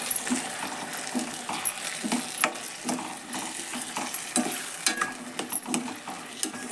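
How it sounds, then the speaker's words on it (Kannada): Lentils frying in a home kitchen pan for a simple dal palya, a continuous oily sizzle broken by repeated scraping and tapping of a metal spoon against the pan as the mixture is stirred, close up and with no voices. "ಹಾಕಿದ್ಮ್ಯಾಗ ಮತ್ತೆ ಎಲ್ಲ ಫ್ರೈ ರೀ ಅದಷ್ಟು ಮಿಕ್ಸ್ ಮಾಡೋಣ"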